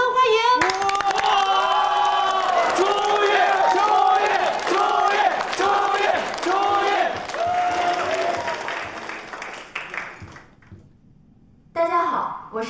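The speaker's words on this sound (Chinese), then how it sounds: "大家掌声欢迎。" An audience at a college stage show claps and cheers loudly to welcome a stand-up comedy act. The dense, continuous roar of voices fades and cuts off near the end, then briefly returns.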